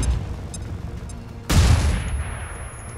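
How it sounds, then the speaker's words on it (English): A single sharp grenade blast in the video game XCOM 2 Long War 2 strikes midway after quiet ambience, then a short rumbling decay fades out. "I'm gonna hit that fucking Muton with a grenade"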